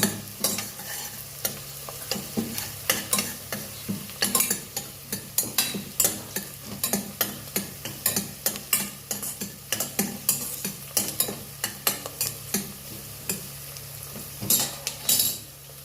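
Browning onions sizzle in a pan for mutton pepper fry while a metal spoon stirs and scrapes against the pan in rapid, irregular clinking strokes, close and continuous, without speech.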